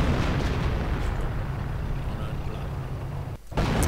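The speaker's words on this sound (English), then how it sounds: "More artillery getting called in." Artillery shelling in a WWII strategy game, a dense, continuous roar of overlapping blasts and booms at steady loudness, ending in a brief dip and then a fresh burst.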